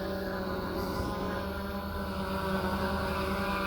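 A DJI Mavic 2 Pro drone hovers close by, its propellers giving a steady, loud whirring buzz with layered tonal hum that holds constant throughout.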